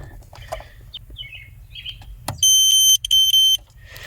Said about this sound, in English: So when the meter touches each other, it beeps.